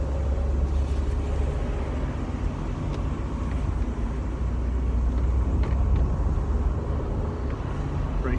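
Mercedes SLK R170 driven slowly around a residential area, a steady low engine and road rumble from inside the cabin, continuous and fairly loud, with no talking.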